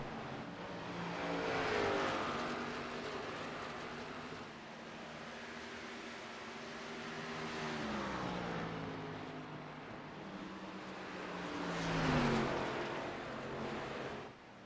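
Race car engines roar through a sim-racing Xfinity Series event at Iowa, a loud continuous drone of several cars with rising and falling pitch as they accelerate and pass, swelling near the start and again toward the end.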